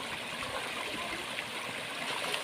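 Water from a natural waterfall and stream flowing over rocks makes a steady broadband rush with light gurgling, continuous and fairly close throughout the short stretch.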